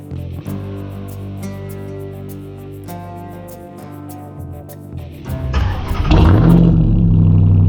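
Supercharged 6.2-liter V8 Hemi in a 2022 Ram 1500 TRX pickup idles with a deep, steady rumble, then revs hard, the roar swelling loud and close and holding high to the end.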